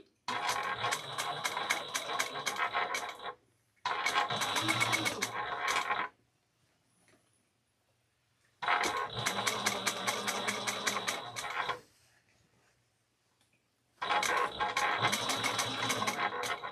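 Sewing machine back stitching through a backpack, running in four steady mechanical bursts of a few seconds each, separated by short quiet pauses, close and fairly loud.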